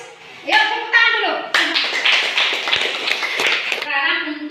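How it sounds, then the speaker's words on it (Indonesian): Students in a classroom clap their hands together in a steady burst of applause, preceded and followed by children's voices chanting. "Yuk tepuk tangan dulu."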